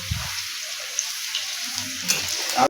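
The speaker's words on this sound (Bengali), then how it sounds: "এই আলুটা ভেজে নিতে হবে" Potatoes fry in a pan in a home kitchen, giving a steady, fairly soft sizzling hiss with a few faint pops and low knocks, and no talking.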